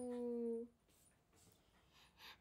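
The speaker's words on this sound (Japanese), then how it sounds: "ごめんね、ワンワン言ってるね。" A dog lets out a drawn-out, high whimper that breaks off, followed by faint rustling and soft whines in a quiet room.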